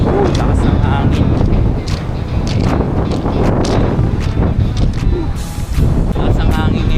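Strong monsoon wind buffets the microphone at a beach house, a loud continuous roar with gusty swells, and people speak over it throughout.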